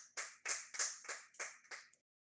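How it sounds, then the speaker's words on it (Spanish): A church congregation clapping for the Lord during a sermon, about seven distinct claps in a quick, fairly even rhythm that stop abruptly, heard alone and at a modest level. "si puede, darle un gran aplauso al Señor"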